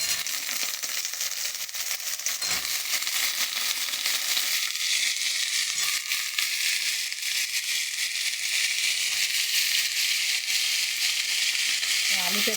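Potatoes added to browned onions in a hot pan, a bright, steady sizzle and crackle filling the whole stretch, with a few soft scraping stirs and faint talk in the background.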